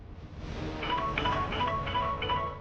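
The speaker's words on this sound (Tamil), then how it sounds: "போனை கொடு, பார்வதிக்கு ஒரு ஃபோன் பண்ணலாம்." In a Tamil TV serial scene, a phone is dialed, giving a row of about five short, evenly spaced keypad beeps over a low background hum.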